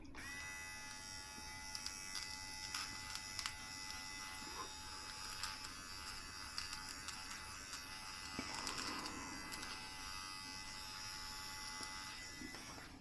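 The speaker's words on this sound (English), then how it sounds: "We're going to try the nose trimmer too." A Lumberjack electric nose hair trimmer buzzes continuously and faintly close up, its steady whine wavering slightly as it is moved, with no voices.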